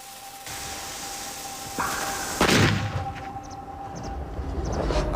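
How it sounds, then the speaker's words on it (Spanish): A single firecracker sharply bursts at a dinner gathering, a loud crack rising over a sustained whistling tone and background hum, then fading into a quieter tail. "estoy esperando una ocasión para tirar un petardo"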